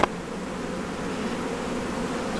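Bees swarm around an open beehive in an apiary, a continuous close buzzing drone that holds steady throughout after a brief knock at the start.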